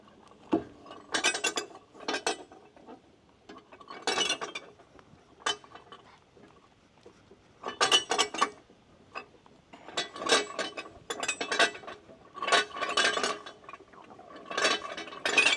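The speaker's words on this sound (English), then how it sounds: "I'm just walking the belt over one pulley at a time, or one groove at a time" A drive belt on a Land Pride FM2160 flail mower is worked over its pulleys one groove at a time, giving scattered metallic clicks, clunks and rattling bursts at an irregular pace, close up, with no talk.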